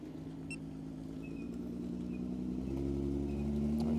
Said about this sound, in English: let that car pass by